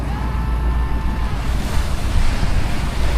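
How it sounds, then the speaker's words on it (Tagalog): Big ocean waves around 8 feet high, heard from a fishing boat at sea, make a loud, continuous roar of surf and wind that fills the scene with no pauses. "Laki pa kasi ang alon. 8 feet ang alon mga amigo."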